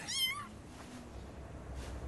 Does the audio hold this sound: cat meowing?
yes